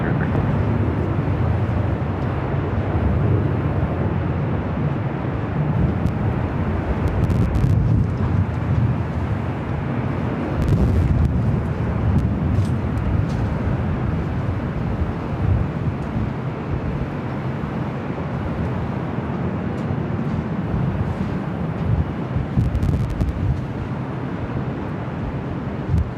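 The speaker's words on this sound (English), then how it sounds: "Flight 8 headed back to London Heathrow, now rolling down to 24 right." Airliner rolling for takeoff on runway 24 right at LAX, a loud, steady, rumbling jet roar lasting throughout with gusty wind buffeting the microphone and no clear voices.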